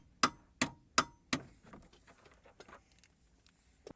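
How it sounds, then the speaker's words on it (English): A torque wrench tightening the spring bolts on a Jaguar X-Type front suspension, four sharp evenly spaced clicks up close, followed by fainter scattered ticks and handling noise, with no talking. "Finishing them off with the torque wrench."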